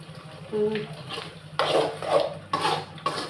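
A spoon scrapes and knocks around a pan of prawn thokku in a few short bursts, clinking metal strokes close by with quiet gaps between them.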